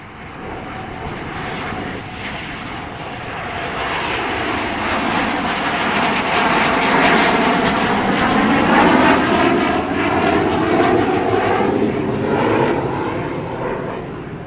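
Suryakiran Hawk jets flying the Missing Man formation at the Aero India 2019 air show in Bengaluru, a loud, sustained jet roar that swells as the aircraft pass overhead, then slowly fades.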